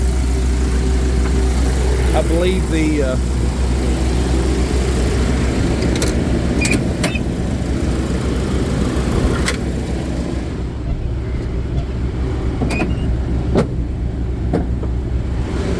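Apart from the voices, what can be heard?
truck refrigeration (reefer) unit running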